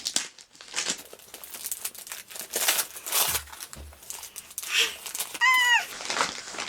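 Paper from an advent calendar gift crinkles and tears as it is unwrapped, with close, bursty rustling throughout and a brief high squeak near the end.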